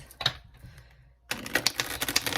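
A deck of tarot cards is shuffled: a quick riffle of sharp paper snaps, a short pause, then a louder, denser burst of rapid card flicks close to the listener.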